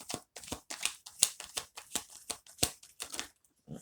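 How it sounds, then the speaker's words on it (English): A deck of tarot cards being shuffled by hand gives a close, quiet series of sharp papery flicks and snaps in a fast, slightly uneven rhythm, with no speech. "Oh, they really want me to shuffle."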